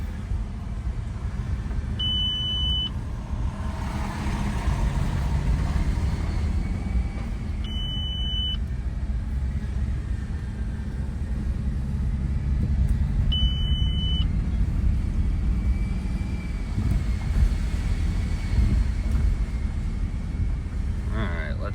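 A rough-running Audi A6 4.2 Quattro is driven in low gear. A steady, loud engine and road rumble fills the cabin throughout, and a short electronic beep sounds three times at regular intervals.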